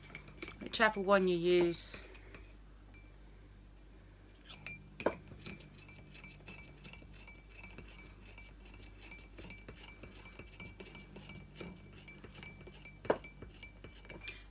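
A spoon stirring a mixture in a glass or bowl, quick light clinks and scrapes repeating after a brief spoken phrase, close and fairly quiet.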